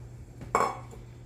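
A spoon clinks once against a bowl while Parmesan, sautéed mushrooms and spices are mixed together; a single short, close clatter in a quiet kitchen.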